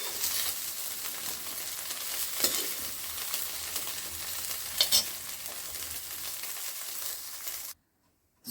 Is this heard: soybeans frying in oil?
yes